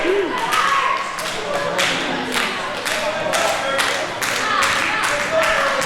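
A wrestling crowd claps in rhythm to rally Sweet Cherrie during a women's match, a steady run of sharp group claps with crowd noise and a commentator talking over it.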